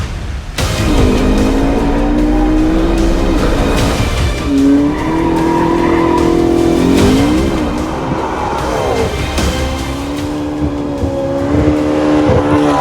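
A McLaren sports car sliding sideways, its tires squealing loudly in long wavering bursts over a roaring, revving engine, close and continuous with no speech.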